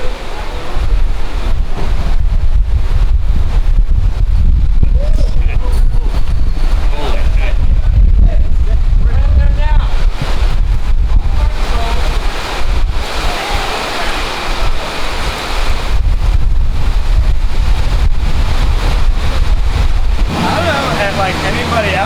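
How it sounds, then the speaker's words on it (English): Strong wind buffets the microphone at a Formula Drift race track in St. Louis, a loud continuous roar with gusting swells, and people can be heard talking underneath. "Got real windy real fast."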